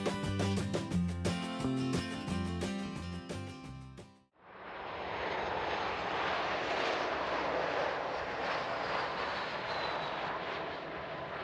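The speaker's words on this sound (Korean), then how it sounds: "멀리서 꿈을 가득 싣고 날아온 비행기가 부드럽게 착륙합니다." A passenger airplane lands at Jeju after a long flight. A steady, broad engine roar rises suddenly and holds to the end, following several seconds of music.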